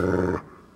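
A dog in the Fragile Dreams video game growls in a short, close, rough rumble that cuts off abruptly, leaving quiet behind.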